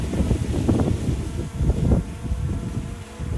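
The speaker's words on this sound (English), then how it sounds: "let's just hope that as we record, we get a nice big gust to show you" Strong gusts of wind buffet the microphone outdoors while small drones hover, a loud, rumbling low roar that swells and surges unevenly, with louder peaks near the start and around the middle.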